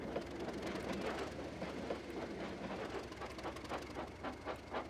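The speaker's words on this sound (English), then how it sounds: "Percy puffed in with the mail." A steam engine train rolls in with the mail, a steady rhythmic chugging and clatter of wheels on rails, moderately loud and continuous with no voices.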